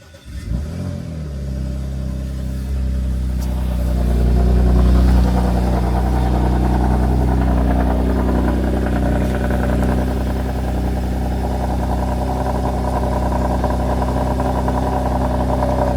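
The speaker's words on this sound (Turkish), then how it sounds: "Ama şimdilik bir aracı çalıştıralım." Porsche Macan S engine starting up, rising into a loud rev and settling into a steady, strong idle rumble close by, with no talking over it.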